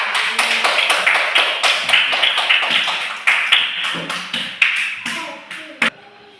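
A school class of children claps for a classmate, sharp uneven claps at close range in quick bursts, fading toward the end with a few stray claps.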